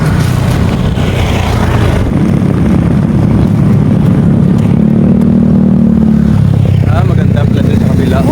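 Motor traffic on a road in the Philippines, a continuous loud engine rumble close by with a passing vehicle swelling in the middle, under outdoor background noise.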